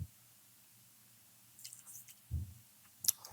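Someone tastes pumpkin erissery curry to check the salt, with a few soft, close, wet chewing and squishing sounds after a quiet stretch, ending in a brief clink.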